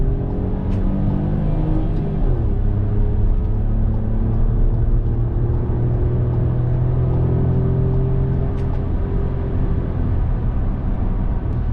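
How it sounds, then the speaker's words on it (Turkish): Steady engine drone and road rumble fill the cabin as a car drives along, loud and constant throughout. "şu an arabayı sürüyorum"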